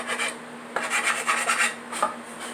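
Hand file rasped quickly across a surface during a blackwashing job, heard as a series of short scraping strokes, close and fairly loud, with no talking.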